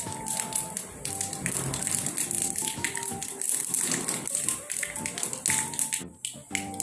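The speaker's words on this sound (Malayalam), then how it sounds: "കടുകൊന്ന് പൊട്ടട്ടെ." Mustard seeds crackling in hot coconut oil for a Kerala chena (yam) curry, a dense run of sharp, rapid pops and taps going on continuously at close range.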